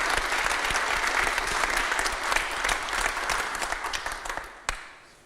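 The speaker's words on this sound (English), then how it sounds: "we give him applause" Dense audience applause at a collaboration conference, many hands clapping steadily for several seconds before thinning out and ending with a final sharp clap, leaving near silence.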